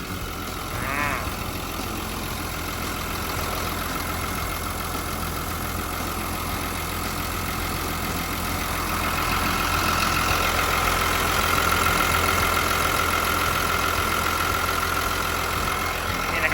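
A Caterpillar D5N bulldozer's heavy diesel engine idling steadily nearby, a low constant rumble that grows slightly louder partway through, with no talking.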